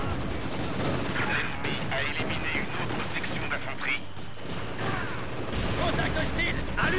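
Rattling gunfire from a Company of Heroes 2 battle, dense bursts and volleys crackling continuously under the noise of combat, with a voice shouting over the shooting.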